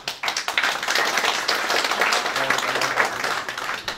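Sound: audience applause

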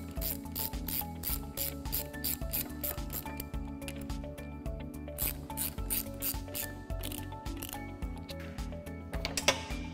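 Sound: ratchet tightening bearing cap bolts

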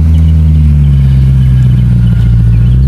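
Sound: supercharged car engine rumbling at cars and coffee

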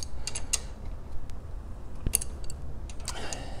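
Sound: 3/8 inch extension and adjustable wrench loosening John Deere drain

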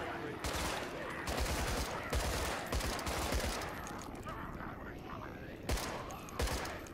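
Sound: machine gun fire in a video game

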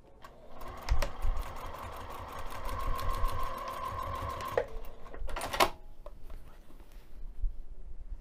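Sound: sewing machine stitching

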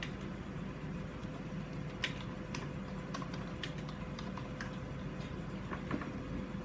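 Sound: typing on a computer keyboard

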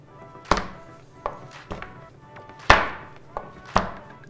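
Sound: chopping chocolate with a chef's knife

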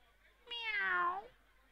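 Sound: cat meowing

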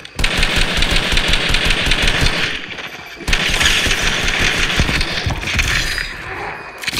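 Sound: gunfire in Fortnite video game

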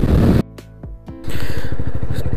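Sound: Jawa 42 motorcycle engine

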